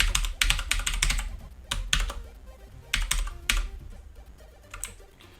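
Typing on a new computer keyboard during a C++ coding tutorial: bursts of sharp key clicks in uneven runs with brief pauses and a few heavier thuds, close and clear, with no voices.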